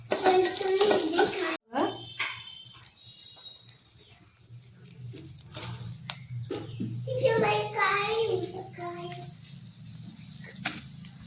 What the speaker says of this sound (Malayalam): വെളുത്തുള്ളി, ഇഞ്ചി ഇത്രയിട്ട് നന്നായി വഴറ്റിയെടുക്കാം.